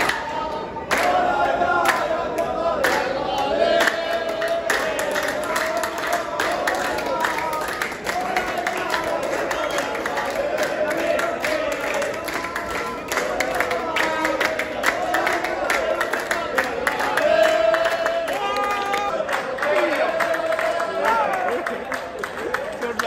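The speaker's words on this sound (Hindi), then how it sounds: "बहुत भीड़ है भाई, बहुत।" A large crowd at the Qatar vs Jordan AFC Asian Cup football final at Lusail Stadium, a dense, continuous roar of voices and chants heard from within the throng, with nearby talk on top.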